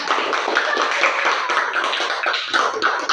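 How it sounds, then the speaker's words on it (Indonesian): A group audience applauds for the first student group after its presentation, a dense, steady patter of many hands clapping close by that continues for the whole stretch with no voices over it. "Terima kasih, tepuk tangan untuk kelompok"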